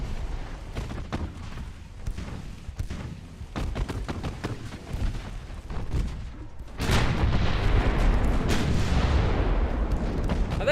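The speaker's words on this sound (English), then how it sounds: "We also have our 8-inch guns firing now." Naval gunfire from 8-inch guns in the warship game Ultimate Admiral Dreadnoughts, repeated heavy booming shots with rumbling tails, then a louder sustained roar of battle noise in the second half.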